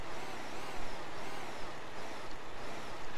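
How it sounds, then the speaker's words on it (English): In Euro Truck Simulator 2, a modded Jeep carrying a Volvo truck engine sound rumbles steadily at a low, moderate level, with a few soft hiss-like bumps over the drone. "this is the other mod, which is a Jeep that has a Volvo engine noise"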